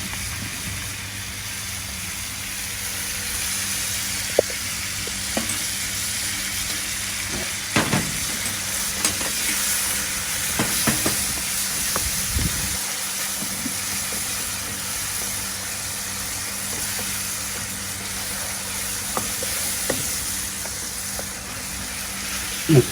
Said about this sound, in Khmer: ឲ្យវាពុះបន្តិចសិន